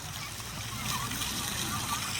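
A park fountain splashes in a steady, broad wash of falling water, close and constant, with faint voices in the background.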